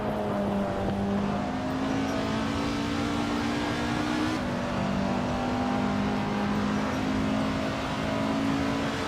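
Racing cars in a touring-car video game race, including a 2008 Toyota Corolla, Toyota Corollas and a Lada Priora, roar continuously with a steady loud engine drone whose pitch climbs and shifts through gear changes, no voices.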